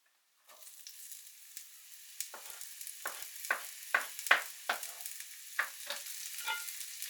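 Onions tossed into hot olive oil, a soft sizzle starting abruptly and rising into crackling spits and stirring ticks, close by but fairly quiet.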